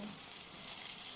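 Steady hissing sizzle of tomato and onion frying in hot oil, continuous and even throughout with no talking.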